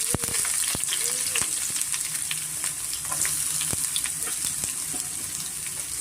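Onions fry in hot oil with garlic, ginger, cumin, salt and turmeric for a brinjal chutney, giving a steady close sizzle broken by frequent sharp clicks and scrapes of stirring.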